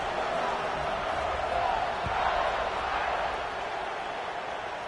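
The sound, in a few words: football stadium crowd buzzing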